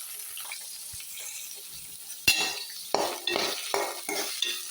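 Onions and fennel seeds fry in hot oil in a pan for a Tamil chicken curry, a soft sizzle broken by several sharp stirring scrapes and bursts of crackle toward the end.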